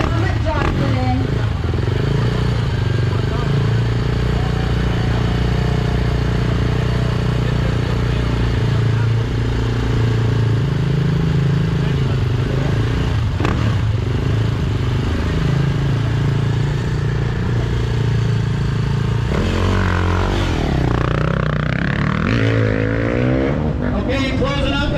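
KTM off-road motorcycles roar at the start of the Baja 1000 race, a loud, continuous, close engine drone with revving surges and clatter throughout.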